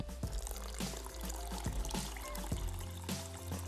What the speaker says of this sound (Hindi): थोड़ा सा इसमें पानी का इस्तेमाल करेंगे